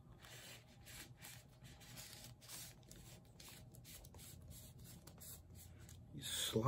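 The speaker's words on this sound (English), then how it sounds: "You slide it into place." A plastic poly-liner slides into a paper record inner sleeve, giving a soft continuous scraping and rustling close by, with a slightly louder rub at the end.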